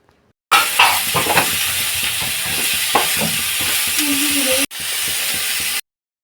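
Eggplant being stirred in a sizzling pan with neem leaves, a loud continuous hiss of frying with scraping and stirring knocks, after a short silent lead-in and a brief break near the end.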